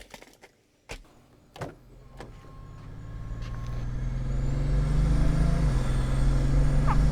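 A Bugatti Veyron driving with its roof off: a few sharp clicks and knocks, then engine noise and road roar that swell steadily into a loud, sustained rumble with a rising whine, heard alone without talk.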